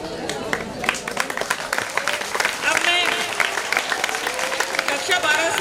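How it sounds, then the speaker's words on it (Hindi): Audience applause welcoming a guest at a school retirement function in Bhilwara, a dense, steady patter of many hands clapping throughout, with cheering voices and shouts mixed in. "केवल तालियों की गड़गड़ाहट के साथ आपको स्वागत करना है।"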